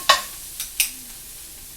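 A utensil scrapes and stirs broccoli spigarello greens in a pan in four quick, distinct strokes over a faint, steady sizzle, with no talking.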